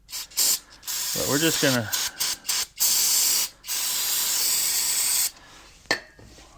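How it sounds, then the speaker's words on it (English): Brake cleaner sprayed in several bursts of loud hiss onto brake parts of a 2011 Chevrolet Impala during a brake repair, with long sustained blasts and short spurts, and someone speaking briefly between them. "So what I'm going to do is take a little brake clean."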